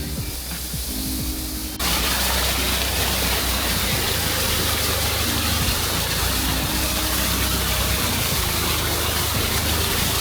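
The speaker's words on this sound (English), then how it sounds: "Crazy waterfall." Water pours and roars through canal locks on a staircase lock flight, a loud continuous broadband rush like a waterfall that surges in suddenly after a quieter start and holds steady, close by.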